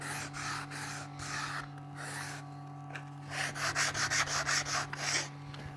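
A wooden BBQ cutting board's juice groove is sanded by hand with sandpaper. Soft, close rubbing strokes come first, then a fast run of about ten rhythmic, louder scrapes, over a low steady hum.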